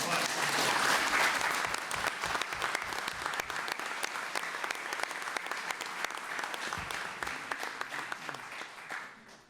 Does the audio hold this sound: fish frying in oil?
no